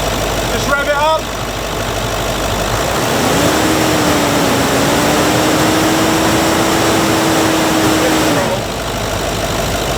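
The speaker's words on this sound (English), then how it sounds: "Just rev it up." Range Rover L322 TDV8 diesel engine, close up, idling and then held at a raised, steady rev for several seconds before dropping back to idle.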